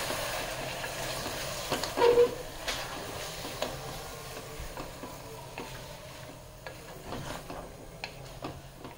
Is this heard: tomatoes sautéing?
yes